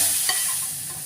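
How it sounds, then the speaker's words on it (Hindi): Hot tempering poured into Pakistani chana dal with bottle gourd gives a brief, close sizzle and hiss, with a faint stir in the pot and no voices. "अब ये दाल में हम तड़का लगा रहे हैं"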